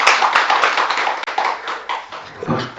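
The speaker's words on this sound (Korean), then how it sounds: "박수 쳐주니 기분이 좀 나아진다" An audience at a Buddhist Seon dharma talk claps, a dense patter of many hands that rises and falls for a few seconds without a break.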